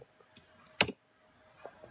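A single sharp computer mouse click on a Windows 10 PC, loud and close, followed by a couple of faint softer clicks in a quiet room.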